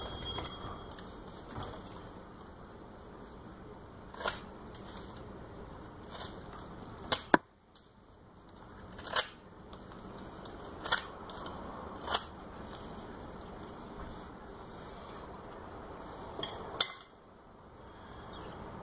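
A Benchmade 162 Bushcrafter knife carving wood with scattered sharp, brief scraping cuts and clicks, spaced a couple of seconds apart, close and fairly crisp over a quiet background.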